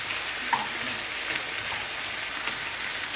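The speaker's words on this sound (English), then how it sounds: "chicken is almost cooked through, then we add some onion" Nearly cooked chicken and freshly added onion frying in a pan, a soft, even sizzle with a faint clink near the start, steady and fairly quiet without talking.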